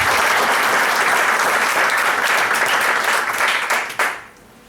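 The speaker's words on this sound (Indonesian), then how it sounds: "Tepuk tangan ya." Loud, dense applause from a large crowd at a Prudential team gathering, sustained clapping that fills the room for about four seconds and then stops abruptly into near-quiet.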